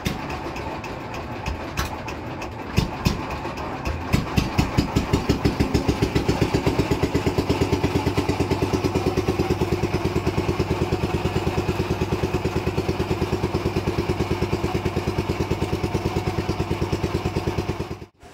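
A motor boat engine chugs steadily during a river crossing on the Ganges, its close, loud, even throb settling into a regular rhythm after a few rougher bursts at the start and running on without a break.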